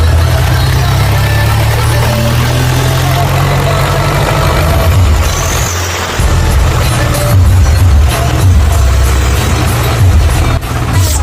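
A diesel tractor engine idles and runs loudly up close, a steady low rumble with brief dips and surges in revving as the engine note changes.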